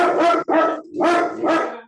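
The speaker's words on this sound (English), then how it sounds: "I got dogs all over the place" Dogs bark loudly and close by in a home, four hard barks in quick succession with no talk.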